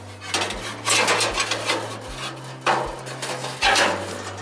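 A metal grease drip tray on a Char-Broil Tru Infrared three-burner commercial gas grill slides back into place, giving several close scraping, rattling pushes with sharp clunks as it seats.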